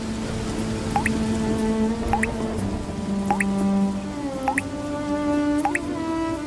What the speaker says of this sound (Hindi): पूरी छत से पानी टपक रहा है